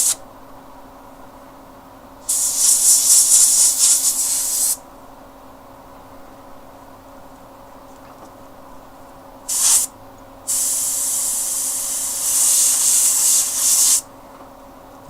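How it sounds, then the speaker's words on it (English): An airbrush sprays paint onto a fantasy miniature figure in loud, close hissing bursts, one about two seconds long, then a brief puff and a longer spray, separated by quiet pauses. "There are so many cool effects you can do with airbrushing."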